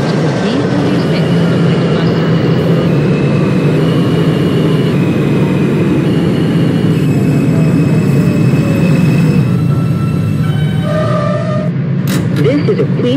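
An R160 subway train on the A express running Queensbound toward Broadway Junction in the Openbve train simulator game, with a steady loud rumbling roar throughout, tonal motor whine shifting in steps, and a voice speaking over it.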